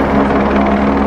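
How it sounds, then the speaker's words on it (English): A helicopter flies over Liverpool during a film shoot, its loud, close rotor chop and engine roar filling the whole moment without pause. "The helicopter's just left."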